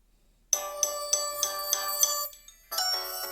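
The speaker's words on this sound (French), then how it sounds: "Sonnerie." Lenovo S5 phone ringtone, a bright chiming melody of repeated tinkling notes that plays loudly on its own, pauses briefly, then starts again.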